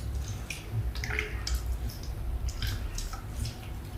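Hands squish and knead curry leaves and coriander in tamarind water for a tomato rasam, giving a steady wet sloshing with soft drips, close and alone.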